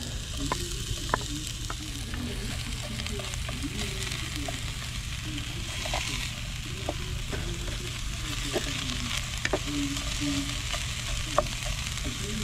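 Food sizzles and fries steadily in a Dutch oven cooking outdoors at camp, a continuous crackling hiss with occasional small pops and faint stirring.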